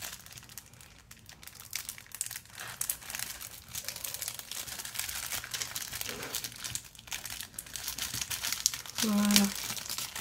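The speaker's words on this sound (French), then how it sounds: "Je vais l'ouvrir." Crinkly plastic packaging from an AliExpress order being opened by hand, a steady crackling rustle running through the whole stretch with a louder crunch near the end, while a person talks at times.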